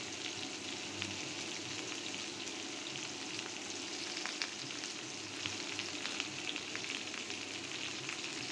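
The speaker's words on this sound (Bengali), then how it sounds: "পেঁয়াজ ভেজে তেলের মধ্যে কেটে রাখা সবজিগুলো দিয়ে দিলাম" Chopped pointed gourd, potato and eggplant fry in hot oil with fried onion, giving a steady, close crackling sizzle with scattered pops throughout and no voices.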